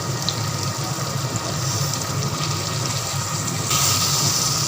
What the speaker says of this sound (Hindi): अब हम इसमें तकरीबन ½ कप पानी डालेंगे ग्रेवी के लिए